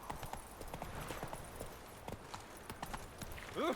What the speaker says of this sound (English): I remembered now how to call the horse, so let's go.